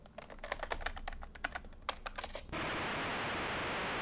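Dense, steady low-pitched noise hiss switches on abruptly after a burst of clicky keyboard-like taps, sounding muffled and constant: the Game Boy noise channel with all divider bits set to 1.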